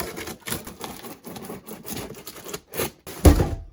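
Cardboard box of a Merach Q1S magnetic rowing machine being cut on its other side, heard as a string of scratchy, rasping bursts with short pauses and a louder scrape near the end, close by and without talk.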